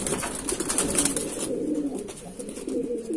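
A male pigeon coos in low, wavering rolls amid a crowd of other birds, with faint higher chirps fading out halfway through.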